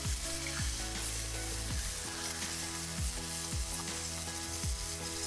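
Rib eye steaks sizzle loudly and continuously in a pan close up, with a few soft recurring knocks underneath.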